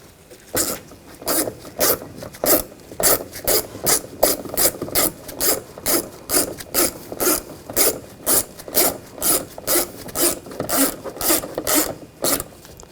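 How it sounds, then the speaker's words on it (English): A ratchet clicks rapidly in steady bursts, about two strokes per second, as a screw is tightened during mirror installation on a 2014-2020 Nissan Rogue; loud, close and alone for nearly thirteen seconds. "Now I take this screw, get this started here, and tighten it down."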